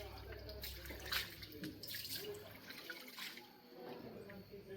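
Water runs steadily while something is washed outdoors, a continuous splashing flow with faint background voices mixed in.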